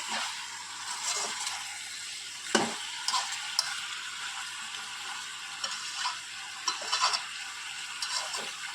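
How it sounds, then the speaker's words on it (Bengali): Chicken sizzles and fries in a spiced masala in a pan, with a steady crackle broken by occasional stirring scrapes and clinks close by. "চিকেনটা মশলার মধ্যে খুব ভালো করে কষে নিতে হবে"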